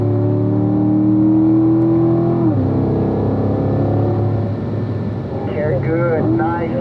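A race car accelerates hard out of a track corner, its engine note sweeping through steady rising harmonics and shifting gears, loud and close throughout, with an instructor's voice talking over it.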